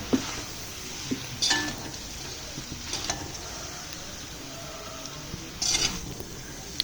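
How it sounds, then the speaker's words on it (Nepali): Fried buff meat is stirred into chowmein noodles in a pan, with a soft steady sizzle and occasional metallic clinks and scrapes of the utensil against the pan. "त्यसमा थोरै अघि मैले तारेको बफ मिक्स गर्ने चलाउने"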